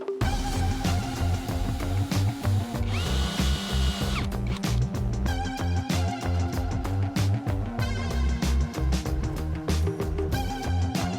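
Power drill boring holes in a Nissan Skyline car body panel, a steady whining motor with repeated bursts of grinding as the bit cuts through metal, no talk.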